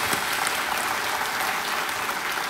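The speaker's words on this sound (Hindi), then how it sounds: "एक बार फिर तालियों के साथ आपका स्वागत।" Studio audience on a TV quiz show clapping in a dense, continuous burst of applause, close and even throughout.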